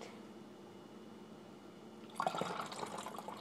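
Heinz apple cider vinegar poured into a layered bottle: after a quiet low hum, a close liquid gurgle and splash starts suddenly and keeps running to the end.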